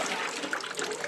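Tap water gushes steadily at good pressure early on a September morning in a Grahamstown home once supply returns, a continuous close rushing splash with no talk.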